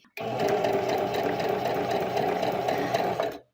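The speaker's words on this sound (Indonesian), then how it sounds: "sebelum kita mulai menjahit ya, kita jahit kain kecil terlebih dahulu ya" A domestic sewing machine runs steadily as it stitches a small scrap of fabric before sewing a tote bag, its fast even whir and needle chatter close, loud and continuous, stopping abruptly at the end.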